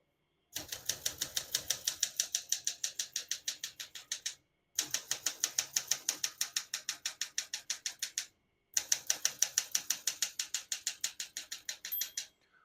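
Steady rhythmic keystrokes on a 1969 Olympia SM9 portable manual typewriter, close and crisp, in three long runs separated by short pauses.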